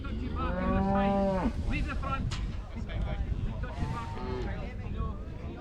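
Cattle at a Scottish agricultural show in Kirriemuir give several long, loud moos, one close by and another further off, over steady outdoor wind and crowd noise.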